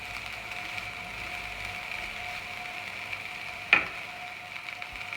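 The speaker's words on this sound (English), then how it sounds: "Let's cook off those sage leaves about 1 more minute" Sage leaves and broccolini fry in a pan with a steady, soft sizzle, joined by a single sharp clink of a utensil near the end.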